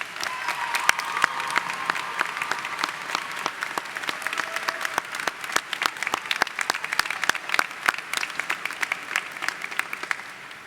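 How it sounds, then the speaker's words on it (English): An audience applauds faculty at a college commencement ceremony, sustained even clapping with many sharp individual claps, moderately near and continuous for the whole stretch. "Please join me as we applaud their support of and dedication to the success of our students."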